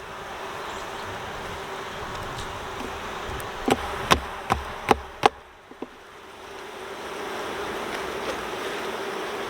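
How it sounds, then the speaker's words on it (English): Honey bees buzz around an open Layens beehive during a spring inspection, a soft continuous drone with a few sharp knocks and taps of frames and tools partway through. "I'm going to try to get rid of some of these bees here."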